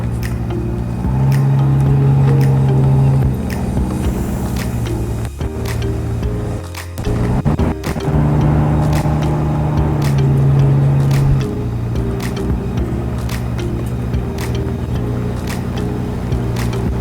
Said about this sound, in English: How's them motors doing back there?